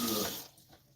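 Water runs steadily from a kitchen tap while dishes are washed, a loud hissing stream that drops to a softer, thinner trickle partway through.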